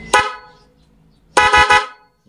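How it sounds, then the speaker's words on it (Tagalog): Two loud blasts of a motorcycle's dual-tone horn, a short single toot then a longer stuttering honk, close by with quiet between. "Yan pa rin yung dual horn natin."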